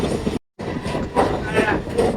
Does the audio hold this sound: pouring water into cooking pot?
no